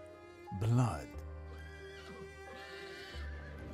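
Horses neigh in the Dracula Origin video game, black red-eyed horses giving one loud, close whinny early on, followed by quieter snorts and shuffling against a steady low ambient drone.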